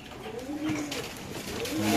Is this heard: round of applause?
no